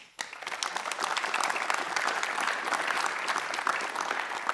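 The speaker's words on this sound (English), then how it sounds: "Please give them an applause." An audience at a corporate event gives dense, sustained applause that rises quickly after a brief quiet start and holds steady, evenly spread and moderately distant, with no voices standing out.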